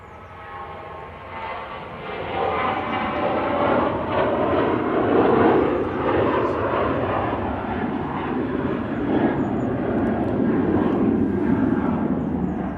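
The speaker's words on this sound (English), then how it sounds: "Oh, on the roll. We do have the Ryanair." Ryanair airliner taking off from Manchester Airport, a loud sustained jet engine roar building over the first seconds and holding steady throughout, broad and rumbling with no talk.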